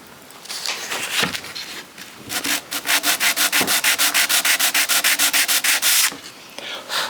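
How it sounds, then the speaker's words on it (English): Hand sanding of wood, a few loose strokes building into a steady run of quick, even back-and-forth rubs, close and fairly loud. "I'll just give it a light sand and we're virtually there, Jack."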